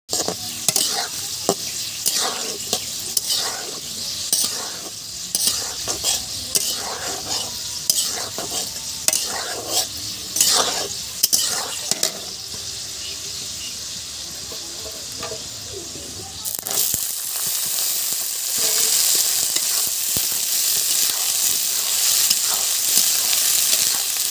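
Steady sizzling of vegetables stir-frying in a hot pan for fried rice, with repeated scraping and stirring strokes, close up, continuing throughout with no talking.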